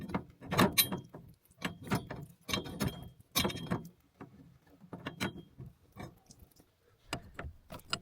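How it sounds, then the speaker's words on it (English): Ratchet spanner working a nut on domestic heating pipework in a tight spot, giving irregular bursts of close metallic clicking and ratcheting with short pauses between strokes. "As you can see here, the new ratchet spanner's getting in use."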